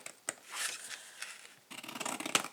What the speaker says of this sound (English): So cut up the score lines